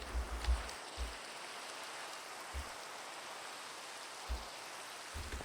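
Steady rain falling in the Minecraft video game, heard from under a ledge or shelter, a soft continuous hiss with a few low dull thumps of nearby drops scattered through it.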